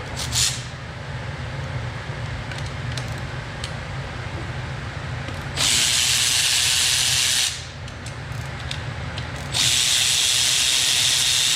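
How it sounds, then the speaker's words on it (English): A Milwaukee power ratchet with a 10 mm socket loosens gearbox bolts, two loud, steady whirring bursts of about two seconds each, close up over workshop background noise. "So we'll grab a 10 millimeter here, grab our little ratchet."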